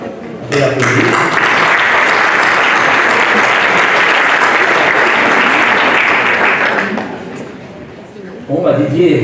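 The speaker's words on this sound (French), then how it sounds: "Je vais l'applaudir." Sustained audience applause at a town New Year's greetings ceremony in Fléville, a dense, steady clapping from a crowd lasting several seconds before fading, then a voice begins speaking.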